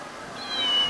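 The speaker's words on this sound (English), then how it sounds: "Is it a meow?" A thin electronic meow sound from a mini claw arcade machine rises and slides in pitch over a steady background hum.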